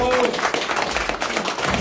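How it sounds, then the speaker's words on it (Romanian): An audience applauding at a birthday celebration in Mileștii Mici, Ialoveni district, a dense, continuous wash of clapping from a group, moderately loud, with voices mixed in. "Haideți să aplaudăm încă o dată"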